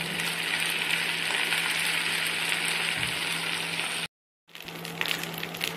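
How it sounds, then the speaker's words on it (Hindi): Rice stir-frying in a pan with soy sauce and vinegar, a steady moderate sizzle with light stirring, cut by a brief silence before the frying noise resumes. "चावलों को अच्छे से मिक्स कर देना है"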